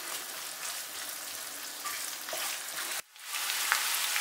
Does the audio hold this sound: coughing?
no